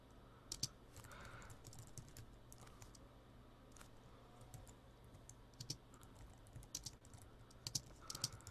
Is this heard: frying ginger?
no